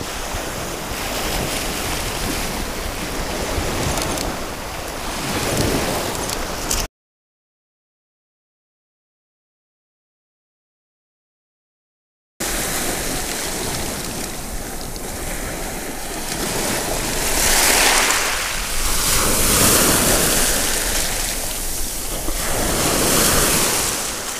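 Ocean waves break and wash on a beach with strong wind buffeting the microphone. The surf swells louder toward the end, and a silent gap cuts the middle of the recording.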